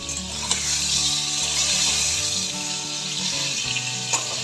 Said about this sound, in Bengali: বেগুনগুলো আমি সূর্যমুখী তেল দিয়ে ভেজে নিচ্ছি তাই সূর্যমুখী তেলের ওপরে বেগুনগুলো তুলে দিলাম